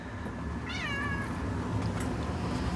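A cat gives a single clear, rising-and-falling meow near the mic against steady background noise, with no speech.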